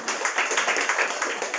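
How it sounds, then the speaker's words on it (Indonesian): Brief scattered clapping from a small group of community health volunteers during a fainting first-aid session, steady light patter of hands in a room without clear speech. "Oke, tepuk tangan buat ibu."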